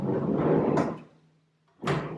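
Soft-close drawer of a renovated bathroom cabinet: a sliding rush that is cushioned and eases into quiet, then a second sliding swoosh follows. Close and clear, with no voices.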